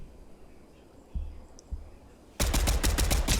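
A rapid burst of video-game gunfire fills the last second, a tight string of loud sharp shots, after a quiet lead-in with a couple of soft thuds.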